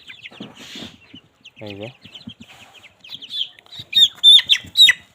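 A 28-day-old Sonali chicken held in the hand clucks and squawks in short bursts, loud and close, with brief wing flutters and someone talking at the start.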